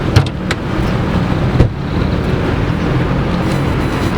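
Steady, quiet drone of a tuned 2016 Peugeot 308 HDi diesel hatchback engine idling, close and continuous with a couple of brief knocks near the start, no talk.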